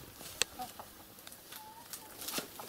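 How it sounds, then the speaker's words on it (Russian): Chickens clucking and calling in short bursts from a pit, a few sharp squawks among quieter clucks, moderately close. "Еще раз покажу, сколько куриц в яме в этой."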